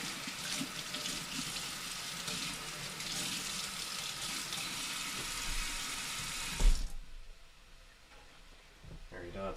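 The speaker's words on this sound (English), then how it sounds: "you don't have to hear sink ASMR for all of eternity" Water running from a kitchen sink faucet while washing up after making chicken noodle soup, a loud continuous hiss that cuts off abruptly near the end, followed by quieter small clatters, with a person talking over it.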